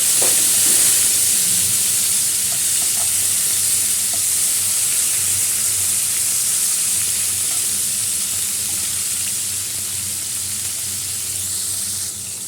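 Tomatoes frying in hot oil tempered with black cumin seeds, giving a steady close sizzle and hiss that holds evenly throughout, easing slightly toward the end, with faint stirring clicks.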